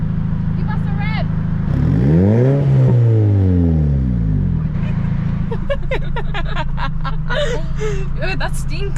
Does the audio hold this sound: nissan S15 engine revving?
yes